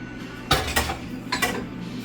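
A metal kitchen pan being handled, with three sharp clanks and clinks against cookware over a low steady background hum, close and without talk.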